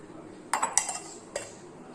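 Mango pieces drop into popsicle molds with a few light clinks and taps, two quick knocks followed by a single softer one, close and faint in a quiet kitchen.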